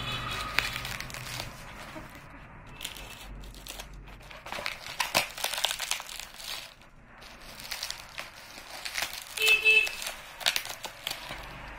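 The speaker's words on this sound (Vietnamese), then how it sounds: "Đây là mình bóc, mình kiểm tra hàng xem có đầy đủ hay không." Plastic packaging for a floor drain is crinkled and torn open close up, a soft, irregular rustling and crackling that comes in bursts across the whole stretch, with no talk.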